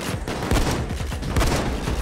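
Shotgun fire in the heist shooter Payday 2, a rapid run of loud, heavy blasts mixed with other gunfire, close and continuous.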